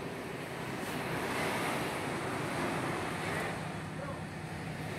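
Ocean surf rolls onto a beach in Mexico in a continuous wash of breaking waves, with wind buffeting the microphone and people talking faintly in the background.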